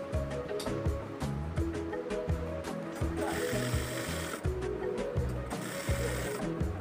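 A sewing machine stitches the body seam of a kameez in a rapid, steady mechanical chatter of needle strokes, close and moderately loud, running without pause and with no talk.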